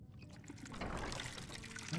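Water pours into a vessel for a refill in the fantasy game Skyrim. A soft, quiet trickle builds after a brief lull and carries on as a steady, faint stream.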